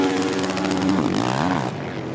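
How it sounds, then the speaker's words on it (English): Engines of 450 motocross bikes rev hard during a professional AMA race at Washougal, a loud, continuous rasping whine that rises and falls in pitch as the bikes pass lapped riders. "Revving the bikes to warn the lap traffic that they're coming through"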